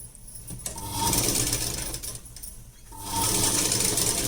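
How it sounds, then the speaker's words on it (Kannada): A sewing machine stitches blouse lining fabric up close, a steady rapid whirring run with a brief pause partway through before the motor picks up again. "ಈ ಬಟ್ಟೆ ಮೇಲಕ್ಕೆ ಇಟ್ಬಿಟ್ಟು ಇದನ್ನೀಗ ಸ್ಟಿಚಿಂಗ್ ಹಾಕೊಂಬಂದ್ಬಿಡಿ"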